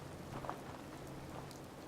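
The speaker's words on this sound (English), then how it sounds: "God damn you, Rain." Steady rain falls in the outdoor world of Fallout 4, a constant soft hiss of drops with no voices, lasting under two seconds at low level.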